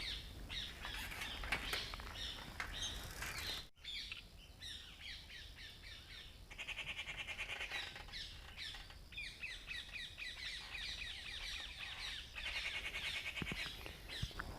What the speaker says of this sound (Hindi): पक्षियों की चहचहाहट की आवाज़ आप सुन पा रहे होंगे